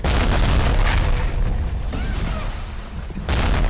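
A bomb blast in the video game BioShock sounds as a loud, dense, rumbling boom that fills the whole moment, dips slightly in the middle and swells again near the end, with no voice over it.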